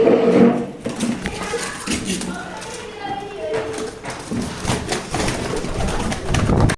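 White and grey pigeons fighting, cooing and fluttering close by in a busy, scuffling flurry, with a voice talking over the commotion.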